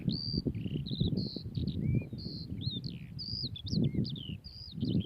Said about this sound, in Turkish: kuş seslerini duyuyorsunuz